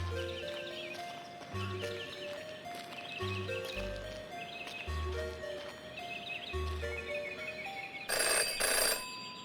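A telephone rings repeatedly in the point-and-click detective game Jenny LeClue - Detectivu, its bell-like trills sounding in clear bursts over low, rhythmic game music, with a bright, loud flurry near the end.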